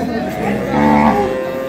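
Sahiwal, Sindhi and local dairy cows at a busy cattle market, with one loud, drawn-out moo rising over constant background crowd noise and chatter.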